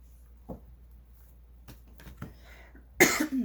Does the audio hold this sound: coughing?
yes